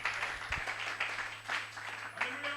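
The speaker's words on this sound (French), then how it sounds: "Applaudissons le Seigneur." A church congregation claps in scattered bursts, a fairly faint, uneven patter with a low steady hum underneath and no voices.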